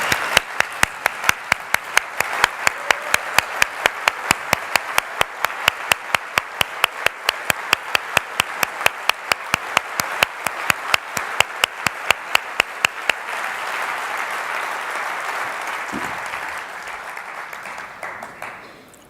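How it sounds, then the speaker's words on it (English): Sustained audience applause for a group of 300 standing at a keynote event, dense clapping for about thirteen seconds that fades into crowd murmur and room noise. "let's give them applause"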